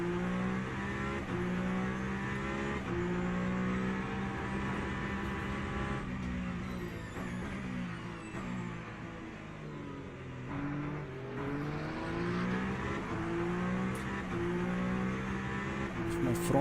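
In the racing game Le Mans Ultimate, a Peugeot hypercar's engine drones on a track, rising and falling as it accelerates and shifts, with brief whooshes of other cars passing.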